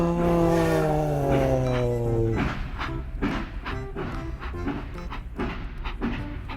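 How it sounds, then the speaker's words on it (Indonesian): A train horn sounds with steady harmonic tones for about two seconds, followed by rhythmic rumbling and clattering of a passing train, fairly close. "Kereta api."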